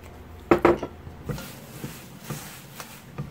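Laver being tossed with seasoning sauce in a bowl for a Korean side dish, heard as a few light clinks and scrapes of utensils against the dish, a sharp cluster early then sparse soft touches.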